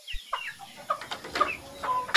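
Roosters on a Philippine farm cluck and call in short, scattered bursts, close by and moderately loud, with a sharper squawk and faint wing movement near the end and no talk.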